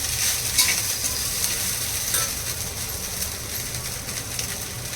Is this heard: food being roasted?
yes